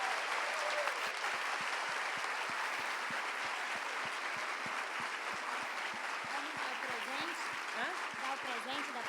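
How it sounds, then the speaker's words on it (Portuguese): An audience claps at an education congress on inclusion, a sustained, even wash of applause throughout, moderately distant, with faint voices and some rhythmic thumps underneath. "eu peço uma salva de palmas para você"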